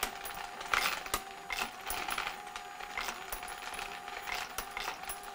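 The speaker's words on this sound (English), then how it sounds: "So we're gonna turn on case feed." A Dillon DA3000 case feeder drops brass rifle cases, .223 being converted to 300 Blackout, in a quiet run of light metallic clinks and jingles, repeated irregularly at moderate, fairly close volume.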